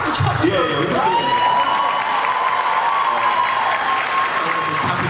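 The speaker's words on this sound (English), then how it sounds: "We can clap for Chadwick." A convention crowd at ECCC 2025 applauds for Chadwick Boseman during a John Boyega panel: loud, sustained clapping with cheering and a long drawn-out whoop riding over the crowd noise.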